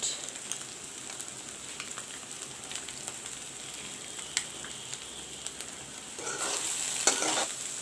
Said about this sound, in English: Let the eggs fry nicely along with the tomatoes and the onions and chilies.